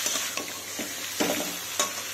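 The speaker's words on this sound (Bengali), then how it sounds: "মশলাটা মাছের মশলাটা ভালো করে কষানো হয়ে গেছে" Fish head masala frying in a pan gives a steady, close sizzle, broken by a few soft scrapes as it is stirred. No one speaks.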